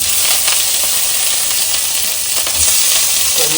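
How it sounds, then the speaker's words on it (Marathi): Paneer pieces fry in hot oil, making a loud, dense, unbroken sizzling hiss close up throughout. "पनीरचे तुकडे तेलात"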